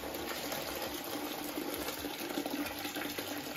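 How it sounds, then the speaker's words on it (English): Homemade blackberry and apple crumble wine is poured gently from a low height, giving a soft, continuous liquid trickle and splash that stays faint and close, with no talking. "And this one, we're now gonna pour it, not from a very high height."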